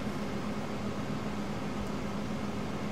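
A harvester chops crops in the video game Farming Simulator 2015, a steady dense mechanical roar with a low hum, continuous and unchanging throughout.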